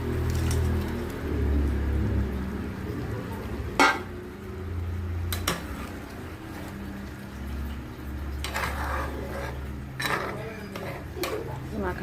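Fried catla fish and potatoes go into a pan of boiling curry, with a few sharp metallic clinks of utensil against pan over a soft bubbling, sizzling background.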